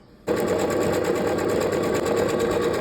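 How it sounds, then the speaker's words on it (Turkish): A PFAFF Smarter 150s/160s sewing machine runs an overlock stitch through fabric, a steady close-up whir with rapid mechanical stitching rhythm starting abruptly and continuing without pause. "Tamam bir overlock."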